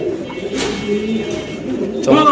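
A pigeon coos at close range, a throaty rolling call standing out over a steady background murmur of a pigeon market, with a brighter burst of cooing toward the end.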